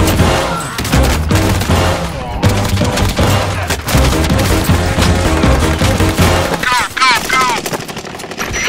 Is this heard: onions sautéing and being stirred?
no